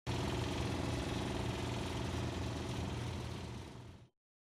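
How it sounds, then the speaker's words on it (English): Exhaust fans run in a barn where golf cart batteries charge, giving a steady, loud mechanical hum with a strong low drone; it holds evenly, then fades and cuts off just before the end. "He quickly turns on any exhaust fans to help reduce the concentration of flammable"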